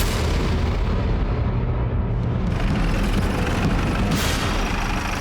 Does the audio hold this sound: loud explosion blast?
yes